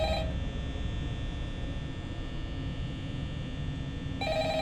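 A desk telephone rings steadily in the Five Nights at Freddy's night-guard office, a continuous electronic ring over a low mains-like hum, filling the whole stretch at moderate level with no talk.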